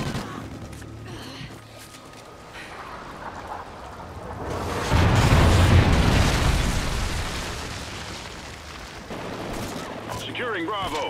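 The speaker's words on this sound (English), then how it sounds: "Friendly Trinity rocket inbound." Trinity rocket strike in Call of Duty: Ghosts multiplayer on Wii U: a rumbling burst of explosions swells to a loud peak and slowly fades, with crackling debris and game noise around it.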